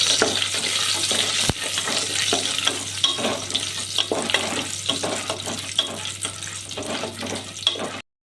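Steady, loud sizzling of cashews frying in hot ghee, with occasional scraping stirs and soft clinks throughout; no talking.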